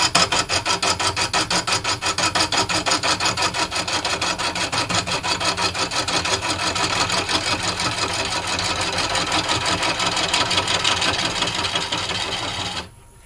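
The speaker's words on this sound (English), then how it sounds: "I'll just pick the back of the bevel up, and as I hear it tap, then I start lift my handle a little bit and go into the cut." A woodturning gouge cuts into spinning Mallee burr wood on a lathe, a steady rhythmic rasping and scraping close up with the ticking of the uneven burr surface, stopping abruptly at the end.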